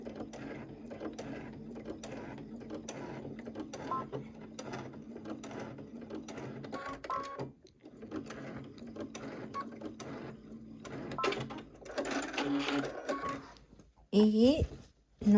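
A sewing machine runs in steady rapid bursts, stitching the last seam of a peek-a-boo beauty bag, with a short pause midway and brief handling noises near the end, while a voice speaks over the machine throughout.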